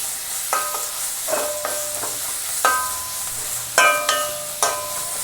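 Ginger curry frying in a pan with salt and turmeric, a steady low sizzle broken by five or six distinct scrapes and clinks of a spoon stirring against the metal at irregular intervals.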